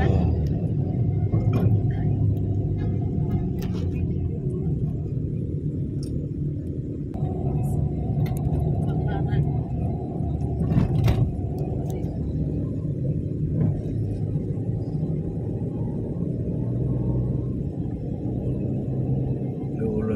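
Road traffic at a busy bus terminal makes a continuous low rumble of idling and passing engines, steady throughout, with occasional faint clatters and muffled activity in the background.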